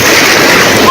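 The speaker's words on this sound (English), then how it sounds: "Tongans are on the beach to film the first waves hit the coast." Tsunami waves surge onto the coast of Tonga after the 2022 volcanic eruption, a loud, continuous roar of rushing surf and water that fills the moment with no break.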